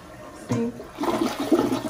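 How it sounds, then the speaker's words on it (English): A bathroom toilet with a blue in-tank cleaner flushes up close, a sudden gurgling rush of water followed by swirling, bubbling refill noise, no voices. "supposed to flush this phone"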